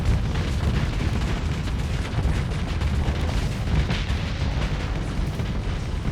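Torpedo explosions in the space game Starsector, a continuous dense rumble of booms and blasts, loud and sustained with no clear gaps between impacts.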